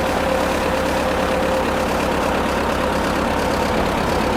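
A running amphibious Ford tractor engine, freshly tuned with throttle and choke, holds a steady idle-like drone under a thin, constant whine, loud and close with no speech over it.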